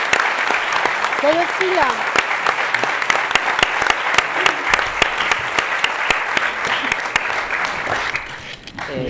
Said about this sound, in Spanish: os damos ahora a vosotros un fuerte aplauso